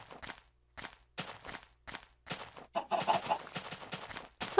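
Minecraft chickens cluck in short repeated bursts with brief gaps between them, followed by a denser, busier stretch of clucking, fairly close and clear with no talk over it.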